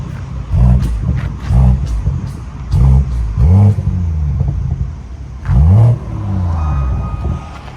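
A BMW 740i V8 engine revs loudly and close up in a series of sharp throttle blips, with deep rumbling between the bursts and a steady idle underneath.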